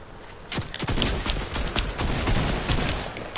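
Rapid bursts of gunfire from a Fortnite match ring out in quick succession, loud and close, with shots clustering into fusillades across the whole stretch and no talk over them.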